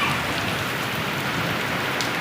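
Heavy rain falls outdoors in a dense, steady hiss of drops on surfaces, constant and close, with no voices.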